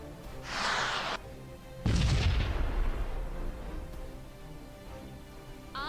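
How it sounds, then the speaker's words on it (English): A missile barrage fired in the space combat game Sunrider: Mask of Arcadius: a hissing launch whoosh, then a heavy booming impact that rumbles and slowly fades, loud and close over a steady background hum. "Okay, fire the missiles."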